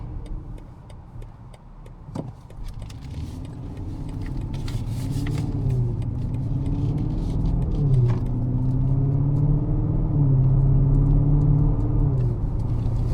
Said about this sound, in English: This just happens to be the V8 Okay. twin turbo, which, you know, gives you more of the performance in the vehicle.